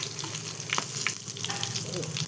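Cinnamon stick, three cloves and fennel seeds frying in a hot pan for a coconut-roasted chicken curry, giving a steady close sizzle with crackling pops throughout.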